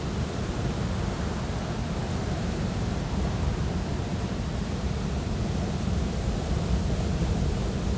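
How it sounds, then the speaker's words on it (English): Ocean waves wash against the shore in a steady, broad roar of surf, continuous and fairly loud with no voices. "You just listen to the sound of the waves"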